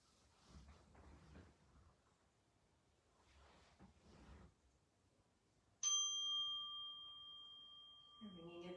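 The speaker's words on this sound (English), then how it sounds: "The ringing of the chime indicates that we are ready to begin the movement or asana part of our practice." A yoga chime is struck once during a quiet yoga practice, giving a bright, clear ring that sustains and slowly fades. Soft speaking comes before it.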